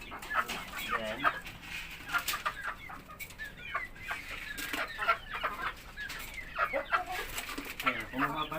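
Rhode Island chickens cluck and chatter steadily at close range, several birds overlapping in a busy, continuous flock sound with low background noise.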